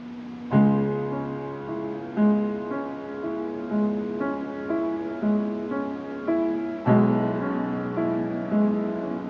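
Slow, heavy piano chords from Moonlight Sonata are struck firmly with full arm weight one after another, each ringing out loud and full before the next lands.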